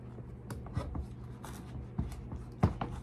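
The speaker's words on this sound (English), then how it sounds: "squashes are really, really hard to cut into" A knife works into a hard squash with scattered scraping and crunching strokes and a few firmer knocks, close and fairly quiet.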